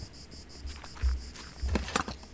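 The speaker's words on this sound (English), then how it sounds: "Cicada." Cicadas buzz in a quiet outdoor scene of the horror adventure game The Last Door, near an old damaged mailbox, a faint high pulsing drone over low soft rustles and a few muffled thumps.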